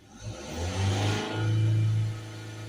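A Ford Transit MK7 with a 2.2 diesel engine, blocked vaporizer and DPF trouble, revs up twice to full revs, a close droning roar that climbs, holds briefly and settles back to idle.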